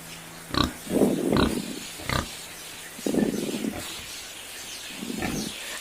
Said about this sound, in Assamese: গাহৰিখিনি একদম পূৰা ওপৰত উঠি উঠি